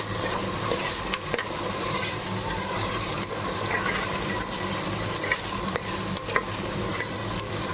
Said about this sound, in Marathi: या भाज्या आपण तेलामध्ये मस्त अशा परतून घेऊन वाफेवर ठेवणार आहोत